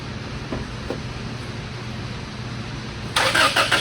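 A first-generation Toyota Tacoma's 2.7L engine cranks, with faint, steady whirring and a couple of soft knocks, then catches near the end with a louder burst as it starts.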